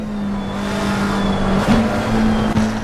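A McLaren race car engine heard from the onboard view in Assetto Corsa Competizione, a loud steady droning tone holding pitch, then a brief dip and quick gear shifts near the end, alone without talk.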